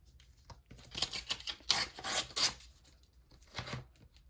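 Scissors snip paper for an envelope junk journal, a few soft close cuts and rustling rasps in short bursts, faint and quiet, with no talk.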